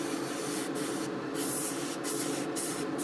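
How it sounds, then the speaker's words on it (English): An airbrush sprays paint at about 20 psi onto a 1:144 scale model aircraft in a continuous close hiss, with a few brief dips where the spray pauses, no voices. "spraying this at probably 20 psi"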